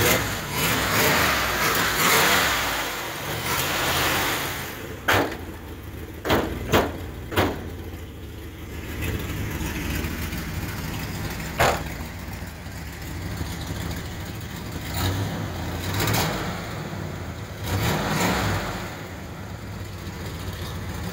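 A 1968 Plymouth Barracuda Formula S with a 340 V8, a barn find, runs steadily throughout, a broadband engine rumble with several sharp transient knocks and clatters breaking through, and faint voices now and then.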